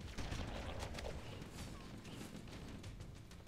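Gunfire in the game Halo: Combat Evolved, a quiet, dense scatter of shots and impacts across a few seconds, somewhat distant and muddy, with no clear speech.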